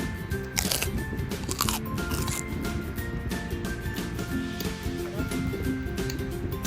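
Close-up crunchy bites and chewing into a 7-Eleven pistachio cream pastry, several crisp bites followed by steady mastication, with music or background noise underneath.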